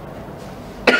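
A single sharp cough bursts out near the end, close and loud after a stretch of quiet room tone, from a man giving a political speech in Malaysia.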